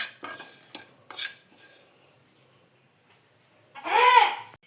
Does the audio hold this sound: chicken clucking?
no